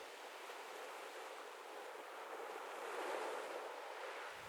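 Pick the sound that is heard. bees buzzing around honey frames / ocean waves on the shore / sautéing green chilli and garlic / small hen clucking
ocean waves on the shore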